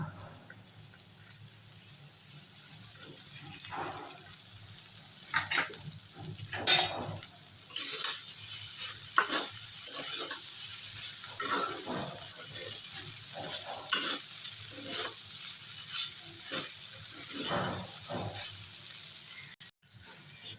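Flattened rice being stirred as it fries in a pan for a vegetarian chira pulao, giving a steady close sizzle with repeated scraping strokes of the spoon throughout, no talking.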